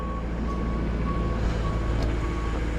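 A tracked loader rumbles loudly nearby at a double-wide home installation while its reversing alarm beeps steadily in an even, repeating rhythm over the engine drone.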